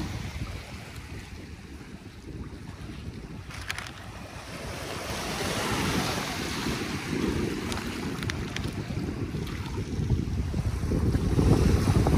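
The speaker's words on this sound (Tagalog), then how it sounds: "Ito yung ating dalampasigan." Ocean waves wash onto the shore at Dolomite Beach in a continuous rushing surf, with gusts of wind buffeting the microphone and the roar gradually swelling louder.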